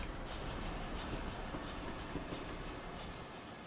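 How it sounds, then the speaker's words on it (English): Rumbling train in a video game passing under a bridge toward a station at steady speed, a dense continuous roar with faint rhythmic clatter, fading slightly toward the end. "I like the way that trains sound as they come under this bridge"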